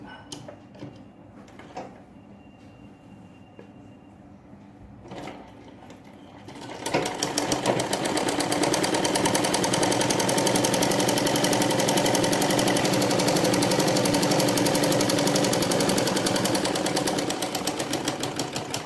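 A sewing machine stitches the front crotch seams of a ladies' pant. A few quiet handling clicks come first, then a fast, loud, continuous mechanical rattle runs close by for the remaining stretch.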